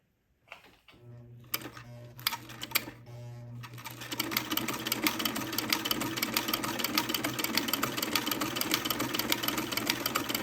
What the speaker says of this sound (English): then I will proceed to sew the first buttonhole